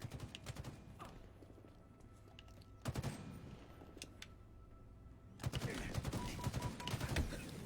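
Bursts of gunfire from several shooters in the Halo Infinite Tenrai event, arriving in clustered volleys with a loud flurry near the end over a low game backdrop, no speech.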